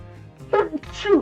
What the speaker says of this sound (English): Oh man, another sneeze